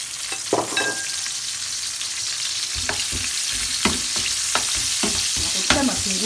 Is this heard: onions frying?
yes